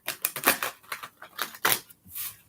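Tarot cards are shuffled by hand in a series of quick, crisp riffling bursts, close and fairly quiet, with short pauses between the flurries.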